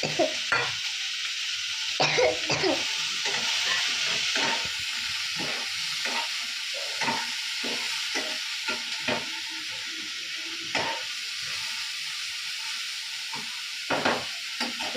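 Fish sizzling in hot oil in a home kitchen pan after garlic, a steady close frying hiss broken by sharp stirring and crackling bursts throughout, with no voices.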